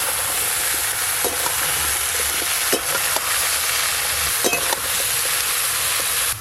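Chopped bottle gourd fries in oil tempered with dried red chilli and five-spice, keeping up a constant loud sizzle while a spatula scrapes and knocks against the pan now and then.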